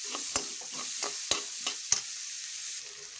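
Onions frying in a pan with turmeric and salt for bread bajji, a steady hiss of sizzling broken by a few sharp clicks of a spoon stirring against the pan, with no talking.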